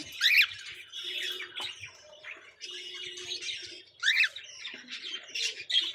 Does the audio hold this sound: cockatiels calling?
yes